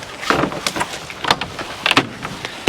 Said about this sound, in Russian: Открываем машину.